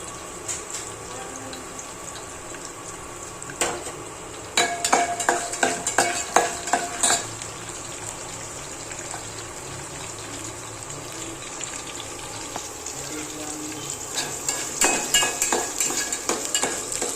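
Chopped onion frying in hot oil in a pan for a lentil curry, a steady sizzle with sharp bursts of clattering stirring and scraping strokes, close and fairly loud, with no talking.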